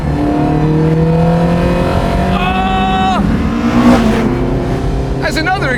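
Race-built twin-cam, two-valve-per-cylinder twin spark engine in an Alfaholics GTA-R 290 Alfa Romeo, droning loudly and steadily close by, with rising and falling revs and gear changes shifting the pitch throughout.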